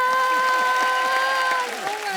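A studio audience claps as an actress comes onto the stage of a comedy show, the steady applause blended with a voice and tonal background sound.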